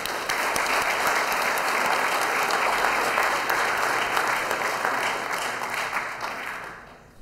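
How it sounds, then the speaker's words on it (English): A council chamber crowd at an Oceanside city council meeting gives a sustained round of applause honoring an employee's 20 years of service, dense and steady throughout before tapering off at the end. "Let's congratulate Alfred for 20 years of service with a round of applause"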